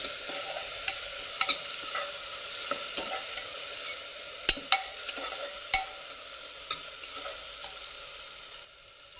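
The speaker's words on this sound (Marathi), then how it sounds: "टोमॅटो पण 1-2 मिनटासाठी असं छान परतून घ्यायचं" Tomatoes cook in a pan with turmeric and curry leaves for a dry chickpea curry, giving a soft, steady sizzle broken by sharp clicks of a spoon scraping and stirring.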